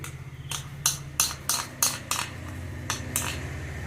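A spoon scrapes and clinks against a cooking pot as curd is stirred into pachadi, a steady run of about ten close, bright metallic knocks with a soft wet churning between them.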